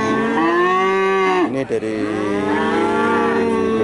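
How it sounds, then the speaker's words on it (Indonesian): A Limousin or Brahman breeding cow at the Purwantoro cattle market lets out a long, loud, close moo that holds for several seconds and dips briefly in the middle, while someone says a few words. "ini jenis sapi calon indukan yang berada di Pasar Sapi Purwantoro"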